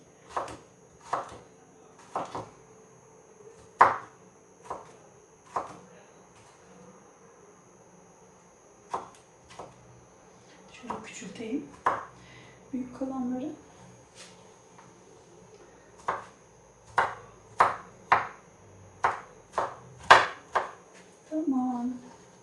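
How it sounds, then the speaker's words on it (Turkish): Knife chopping tomatoes and cucumber on a board for Turkish kısır, a series of sharp, close taps in loose rhythm, sparse at first and quicker later, with someone talking in between. "Domates de doğrayacağım."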